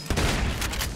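Dense gunfire in a John Wick simulator video game (Maximum Action), a loud continuous burst of overlapping shots filling the whole second.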